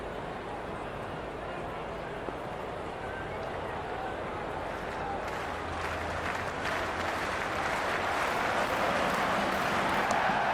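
A stadium crowd in the Cricket 26 video game on PS5 at an India versus South Africa one-day international, a steady wash of cheering and applause that swells slightly toward the end.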